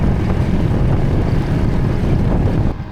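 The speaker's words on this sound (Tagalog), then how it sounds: "Lakas ng hangin, di ko alam kung naririnig nyo pa." Strong seaside wind buffets the microphone on a coastal road trip through the Philippines. It makes a loud, continuous low rumble that lasts the whole stretch with no voices.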